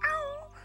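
A dog gives one short, tonal howl-like bark in a children's farm story, close and clear, lasting well under a second.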